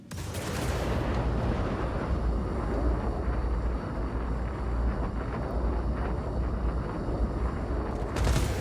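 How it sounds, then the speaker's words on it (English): An IR missile fires from a spacecraft in the Star Citizen video game: a sustained heavy rushing roar that rises quickly and holds loud and near for several seconds, then surges again at the end. "So I'm gonna fire my IR missile."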